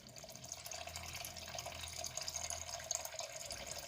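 Corn kernels being washed in water for homemade Nigerian pap (akamu, ogi), with steady splashing and trickling close by, continuous throughout and without speech.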